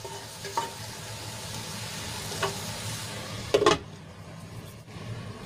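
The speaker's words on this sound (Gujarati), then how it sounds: "ફરીથી આપણે ચડવા દઈશું જેથી કરીને મસાલો સારી રીતે ભીંડામાં મિક્સ થઈ જાય" Okra coated in a peanut and sesame masala sautés in a pan, giving a steady close sizzle with a few brief stirring clinks and scrapes and no talking.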